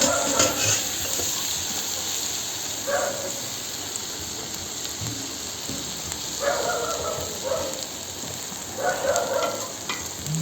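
Rice being turned in a pot of Tashkent-style plov cooked over a fire, a constant sizzle and bubbling under several scraping bursts as the spoon works through the rice.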